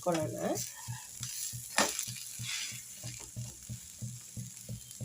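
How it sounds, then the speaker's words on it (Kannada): A dosa roasts on a hot pan, giving a soft sizzle with light scraping and tapping. The sound is quiet and close, and no one speaks. "ಈ ದೋಸೆ ನಾನೀಗ ಈ ಕಡೆನೂ ಎರಡು ಕಡೆನೂ ರೋಸ್ಟ್ ಆಗಿದ್ದೇನೆ"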